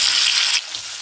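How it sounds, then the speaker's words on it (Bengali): Chopped onions drop into hot oil in a pan while a mutton curry is cooked, making a sharp, close sizzle. The hiss is strongest for about half a second and then settles to a steady, quieter crackle. "এবার পেঁয়াজ কুচিগুলো দিয়ে দিলাম।"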